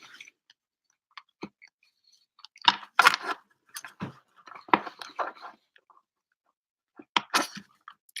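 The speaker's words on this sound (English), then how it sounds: "I feel like I should finish chewing." Close, intimate chewing of food, with wet crunchy bites and soft mouth clicks arriving in irregular bursts separated by quiet pauses.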